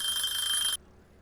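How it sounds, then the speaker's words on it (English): A kitchen timer alarm in the Cooking Simulator video game rings for under a second as a bright, shrill, steady electronic tone, then cuts off abruptly to quiet background. "Timer should be going off now."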